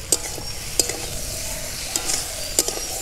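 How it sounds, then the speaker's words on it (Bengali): Okra do pyaza being stirred and fried on low heat, a steady soft sizzle punctuated by several sharp scraping knocks of a spatula against the pan, close up and alone. "আঁচটা অল্প অল্প রেখে এটাকে এইভাবে নেড়ে চেড়ে কষিয়ে নিতে হবে।"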